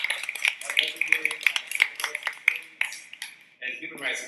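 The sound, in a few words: round of applause for a guest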